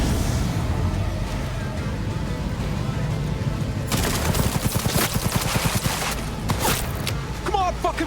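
Shotgun and other gunfire in Cyberpunk 2077, a dense run of close, sharp blasts in the second half over a continuous combat din, with a voice talking under it.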